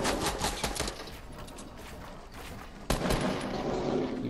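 Rapid bursts of gunfire in an online shooter video game, a fast clattering volley early on that thins out and then returns with a sharp loud shot, repeated cracks over a busy game background.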